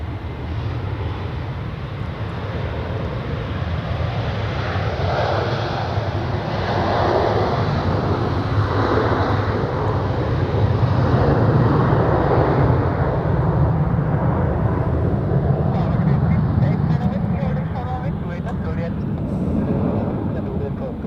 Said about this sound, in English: we are now waiting for the Air Europa departure, which seems to happen right now